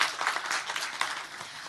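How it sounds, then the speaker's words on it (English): Audience applause fills the hall at the closing ceremony of a youth entrepreneurship forum in Kazan, a dense, steady crowd clapping that stays loud throughout the short stretch. "So, please, more applause for this."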